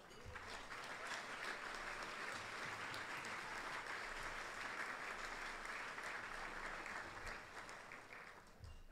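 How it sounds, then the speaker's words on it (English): An audience at an awards dinner applauds in a sustained burst of dense clapping, loud and even for several seconds before tapering off slightly at the end. "so an extra round of applause there"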